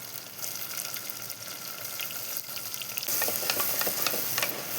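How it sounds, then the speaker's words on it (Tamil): Onions frying in hot oil with fenugreek, cumin and mustard seeds in a clay pot, giving a steady close sizzle that swells louder and more crackly partway through, with no one speaking. "இப்போ நம்ம வெங்காயம் சேர்த்துக்கலாம்."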